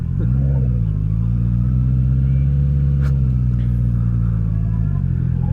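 Several Honda CB650R motorcycles run on an expressway with a steady, loud engine drone and rumble, the pitch holding almost constant with a slight dip near the end.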